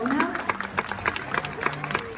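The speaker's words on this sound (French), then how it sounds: "vous pouvez applaudir bien fort" An audience claps in scattered bursts, moderately loud, mixed with voices in the background.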